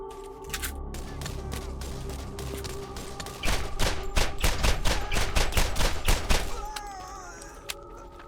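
Sniper rifle and other gunfire in Borderlands rattles through a game scene, building into a fast string of loud, sharp shots in the middle before thinning out, with a voice talking underneath in places.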